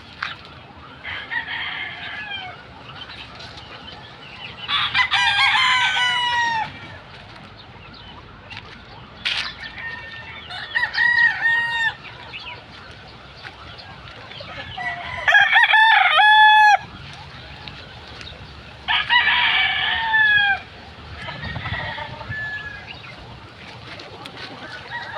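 Young chickens on a poultry farm cluck and call in loud bursts, with several roosters crowing near and far over a low background of farmyard noise.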